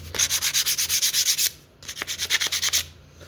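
A wooden piece hand sanded in steady back-and-forth strokes, loud and close, with two bursts of rapid rasping rubs separated by a brief pause.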